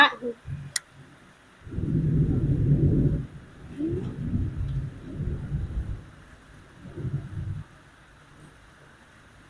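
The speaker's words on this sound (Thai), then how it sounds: "ฝนตกบังหันไฟดับ" Thunder rumbles in low, rolling bursts during a rainstorm that knocks out the power, with rain hiss in the background.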